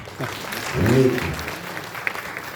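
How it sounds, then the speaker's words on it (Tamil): An audience at a Tamil speech breaks into brief applause, a short burst of clapping mixed with a speaking voice. "கைத்தட்டலாம்"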